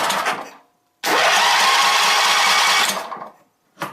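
A zero-turn mower engine cranks in one long sustained burst of about two seconds, loud and close, then tapers off, with brief mechanical noise before and after.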